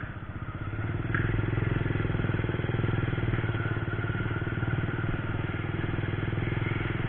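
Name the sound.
classic motorcycle engine idling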